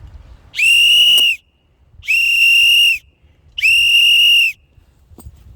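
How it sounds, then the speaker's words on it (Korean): A whistle is blown loudly three times on a mountain trail to scare off wild boars, each long shrill blast lasting under a second, with brief pauses between. "필히 호루라기를 불어서 이렇게 산돼지나 다른 일에 그 짐승들이 도망가게끔 만듭니다"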